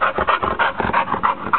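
A pit bull panting hard after running back and forth, a close, loud, rapid rhythm of breathy huffs repeating steadily without pause.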